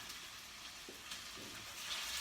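Arborio rice frying in hot bacon fat for paella, a soft, steady sizzle and crackle at low level with a few brief stirring scrapes, no voices.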